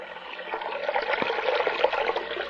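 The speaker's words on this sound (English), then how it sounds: "we want to fill up a bowl here and get plenty of water" Water runs steadily into a container, a continuous splashing trickle with no voices, close by.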